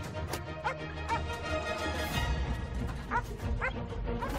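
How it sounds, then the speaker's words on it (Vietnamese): Dog barking and yipping outside a tent in an action film scene, the barks landing in a quick irregular series over a dense background of noise and music, fairly loud throughout. "Dừng tay, có chó, chạy mau."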